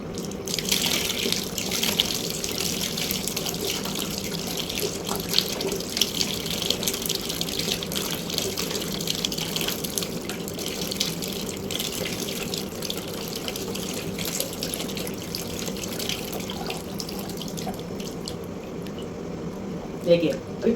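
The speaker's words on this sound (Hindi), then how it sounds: "अब इसके अंदर सादा पानी ज़्यादा से ज़्यादा डालना पड़ेगा" Plain water is poured from a mug into a container, giving a continuous splashing, gurgling stream that stays fairly loud and steady for the whole stretch.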